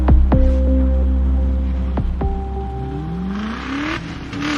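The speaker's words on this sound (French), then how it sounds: "La voiture menaçante se met alors à accélérer avant de venir les tamponner." A menacing car on a dark road speeds up close by. The engine roars loud and revs up twice in rising sweeps, then a steady higher-pitched whine builds.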